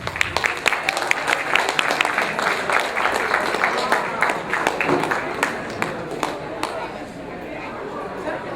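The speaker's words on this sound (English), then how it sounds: "please put your hands together and give a nice round of applause to the lovely Camille Keaton" Audience applause greets two guests at an interview event, dense and steady clapping with sharp individual claps standing out, mixed with crowd chatter and cheers, gradually easing toward the end.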